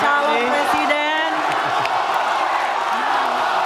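An audience cheering, whooping and clapping for presidential candidates at a debate-style event, a loud sustained roar with raised individual voices and a host speaking over it.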